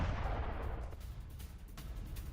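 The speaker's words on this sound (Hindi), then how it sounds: "आप देखिए एक साथ कितने धमाके हुए" Airstrike explosions in southern Lebanon rumble as a deep, continuous low roar of overlapping booms, with a few sharper cracks standing out, heard from a distance with no talk.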